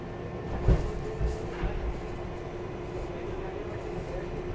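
A New York subway train rides between stations toward 74th Street–Broadway, a steady low rumble and rattle of the car with a few soft knocks, heard from inside at moderate loudness without talk.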